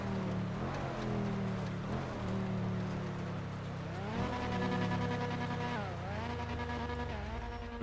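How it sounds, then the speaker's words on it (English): Loud, continuous custom car engine roar in a video game, with droning harmonics that rise and fall as revs climb, then dip and climb again, like a tuned race car. "we got some new custom car sounds. They're so freaking loud."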